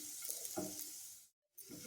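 Bay leaf pieces dropped into hot oil sizzle and crackle steadily with spoon stirring, the hiss briefly cutting out to silence before resuming.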